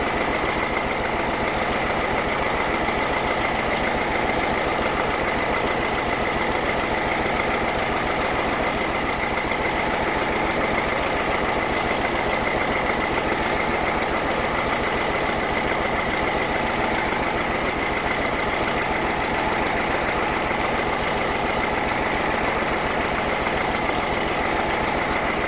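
A military M35 truck engine runs steadily near 800 rpm while the winch spools cable back onto the drum, a continuous loud rumble with a faint rattling, rail-like drone throughout and no talking.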